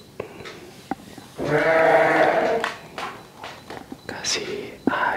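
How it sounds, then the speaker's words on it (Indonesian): A goat bleats in a long, loud wavering call up close, with scattered footsteps and clicks around it and people talking quietly nearby. "Kasih minum ke tuh kambing."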